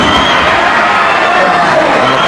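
A wrestling crowd at a World of Sport bout between Mark Rollerball Rocco and Steve Grey roars loudly and steadily, a dense wall of cheering and shouting that holds for the whole stretch.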